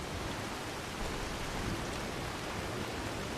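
Steady rain pours down in Skyrim Special Edition, a dense, even hiss of falling drops that stays constant and fairly quiet from start to finish, with no voices.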